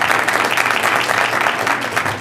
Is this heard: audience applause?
yes